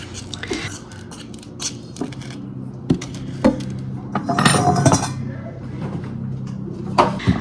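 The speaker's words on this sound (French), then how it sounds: "Et là, on mélange tout ça ensemble." Salt and cinnamon are stirred together in a bowl for cookies, with irregular clinks and scrapes of a spoon against the bowl and a louder rattling burst midway.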